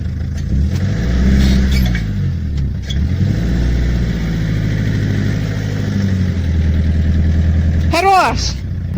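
A car engine idles and revs in pulling bursts as the vehicle pushes against a tree stump in a rural yard, with voices talking over it and a brief squealing strain near the end.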